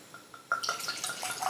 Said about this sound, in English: Double glug glugs. Oh, and splash.